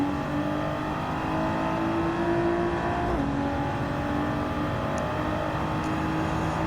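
Nissan R34 Skyline GT-R engine in Gran Turismo 7 holding a steady, loud drone at high revs with a brief dip near the middle, like an upshift, as the car pulls hard through a race lap.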